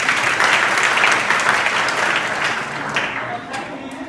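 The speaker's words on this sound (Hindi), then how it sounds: "अच्छा तो नहीं है लेकिन फिर भी ताली बजा रहे हैं।" Students at an inter college in Azamgarh clapping together, a dense close burst of applause that holds steady and then slowly thins out.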